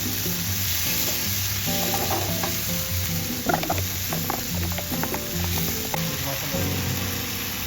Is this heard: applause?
no